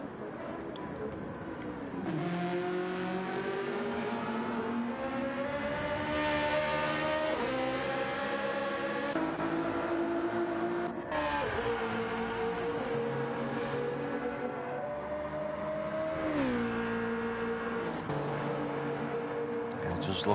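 Race cars including a BMW Z4 in a GT3 racing video game, engines droning and rising in pitch through repeated upshifts, a continuous loud whine with gear changes every few seconds.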